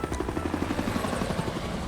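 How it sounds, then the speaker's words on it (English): In the strategy game Civilization VI, a helicopter attacks an artillery unit with a steady, fast rotor thump and a low engine drone, loud and continuous without talk. "Oh, my artillery is being attacked by a chopper."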